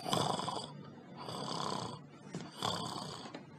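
A voice imitates the gentle snoring of a sleeping person, with three long rasping snore-like breaths in a slow, steady rhythm, close and fairly loud.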